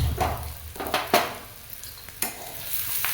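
Sliced radish and green chillies frying in a hot pan for pickle, with a steady sizzle and a few brief stirring scrapes, close and alone with no talk.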